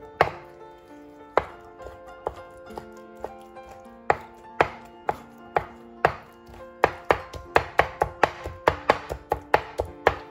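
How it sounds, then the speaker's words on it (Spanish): A knife chops peppers on a board in sharp, close strikes, sparse at first and then quickening into a rapid rhythmic run, with a faint steady tone underneath. "Ahora picamos los pimientos."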